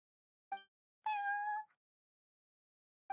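Prince the cat meows in a video game shop called the Cat's Tail during a dice battle event: a short meow, a longer drawn-out one, then another short meow cut off at the end, all clear and alone.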